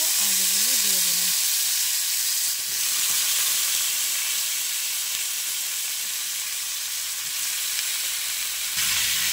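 Kohlrabi and potato pieces slowly frying in oil with panch phoron, a loud, continuous, close-up sizzling hiss that barely changes, with a brief voice at the very start.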